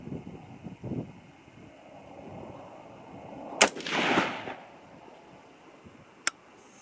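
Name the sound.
6.5 Grendel rifle gunshots, 90 grain TNT loads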